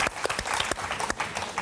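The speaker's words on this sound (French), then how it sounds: "applaudissements pour tous les quatre" Applause from a game show studio audience for four contestants, heard as a burst of scattered, uneven claps with distinct sharp hits throughout, moderately loud and without talk.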